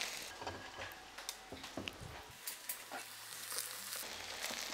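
Ivy gourd (donda) fries in a pan over a high flame, giving a faint, continuous sizzle dotted with soft crackles and small pops, with no talking.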